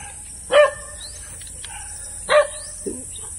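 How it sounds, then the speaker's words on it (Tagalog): A dog barks twice near houses at night, a couple of seconds apart, moderately distant, followed by a softer yip, over a steady high insect drone. "Yan, may aso pa oh."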